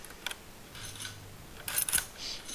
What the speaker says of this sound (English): I love the way that the bolt comes back as well.